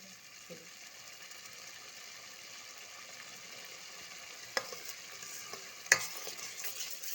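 Masala for chhole frying in a pan, heard as a faint, quiet sizzle with a few soft stirring scrapes and one or two sharper clinks near the end.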